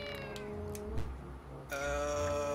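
Meowing in Wind Waker Chaos Mode, a stretched, gliding cat cry that rises and falls twice over game background sound, fairly faint.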